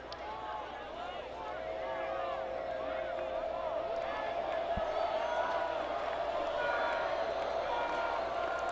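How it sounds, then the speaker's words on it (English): A football crowd at White Bear Lake versus Mounds View swells louder before a big third down, forming a broad, steady roar with scattered cheers and whoops. A commentator talks over the noise throughout. "Crowd getting loud."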